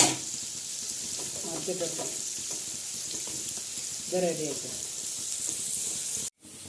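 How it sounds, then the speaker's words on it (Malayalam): Dried vathal fries in a hot pan with a quiet, steady sizzle and occasional light stirring, fairly faint, ending with a short sudden dropout. "കുറച്ച് വത്തൽ പൊരിച്ചെടുക്കുന്നുണ്ട് അപ്പോൾ ചട്ടയിൽ ചൂടെ ഇട്ട് കൊടുത്തിട്ടുണ്ട്"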